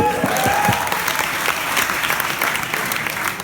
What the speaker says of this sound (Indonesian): Tepuk tangan yang udah milih